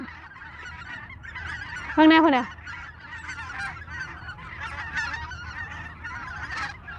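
Waterfowl honk in a flock, one loud goose-like call rising sharply near the start, followed by a dense chorus of quieter overlapping calls, with a few spoken words mixed in.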